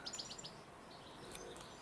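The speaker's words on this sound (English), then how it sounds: "All I can hear is the birds." Birdsong outdoors on a fine summer day: a few faint, high chirps and tweets early on, then scattered distant calls over a soft steady background hiss, with no talking.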